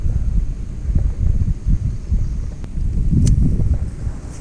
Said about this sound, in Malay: Angin teramat kuat.